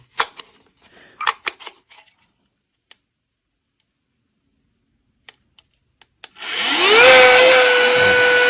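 ETENWOLF AIR 3 mini air pump switched to deflate mode: scattered handling clicks and taps, then the small motor whirs up and runs as a loud steady whine for the last couple of seconds.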